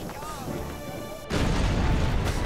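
A bomb explosion in Overlord 2, a sudden loud rumbling blast that breaks in over an earlier bed of game sound and keeps roaring to the end.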